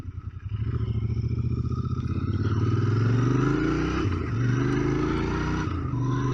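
A Royal Enfield Interceptor 650 twin-cylinder motorcycle rides on a country road, its engine pulsing steadily and pulling up through the revs with a throaty, even drone and a brief dip as it shifts gear, loud and close.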